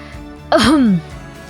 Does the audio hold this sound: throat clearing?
yes